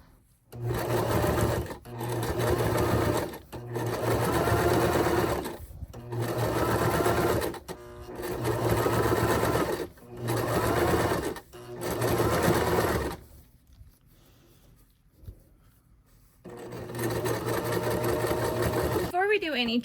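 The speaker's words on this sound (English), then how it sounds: "I'm just stitching right along this vertical piece right next to it." A sewing machine stitches a woven jelly-roll fabric basket in repeated bursts of rapid, whirring needle runs, separated by brief pauses, close and fairly loud; a voice speaks at times between stitching runs.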